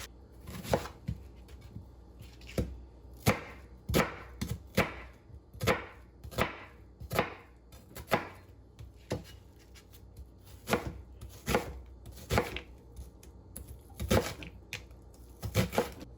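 Chef's knife chopping onions on a cutting board in a home kitchen, with steady, close, crisp knife strikes in an irregular rhythm and no talking.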